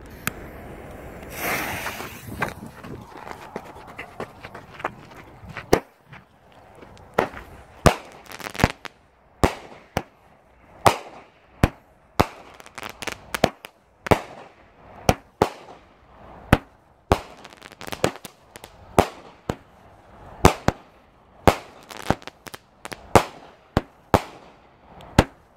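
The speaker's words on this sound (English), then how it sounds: "I'm going to do a demo on Super Stallion 200 gram cake 16 shot by Brothers Pyrotechnics" A Brothers Pyrotechnics Super Stallion 16-shot 200 gram firework cake fires outdoors: a fizzing fuse, then a steady series of sharp launch thumps and crackling bursts, heard from a moderate distance.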